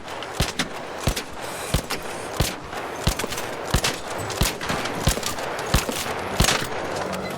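Repeated gunshots fired at an ARC machine enemy in the video game Arc Raiders, a dozen or so evenly spaced sharp cracks over a steady noisy background, moderately loud and without talk.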